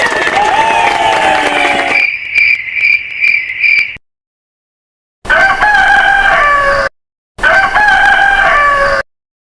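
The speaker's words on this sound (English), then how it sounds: "Rooster." A rooster crows three times, loud and near, each a drawn-out cock-a-doodle-doo, with a cricket's pulsing chirps heard between the first and second crows and short silences separating the later calls.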